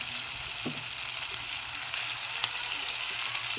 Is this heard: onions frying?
yes